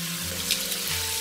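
A small splash of water is poured into stir-fried surf clams in a hot pan, giving a short, soft, steady trickle over a faint background hum.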